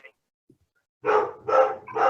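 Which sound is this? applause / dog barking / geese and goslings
dog barking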